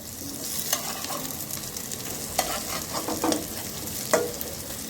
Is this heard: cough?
no